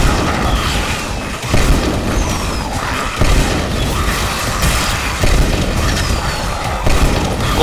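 Repeated booming fireworks explosions in the game Let It Die, with deep bursts spaced a second or two apart over a dense rumbling background.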